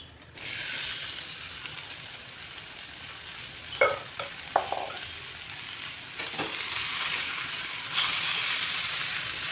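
Tomatoes and pumpkin pieces hit a hot frying pan with a broad sizzling hiss, a few sharp clacks of utensils and stirring along the way, no voices.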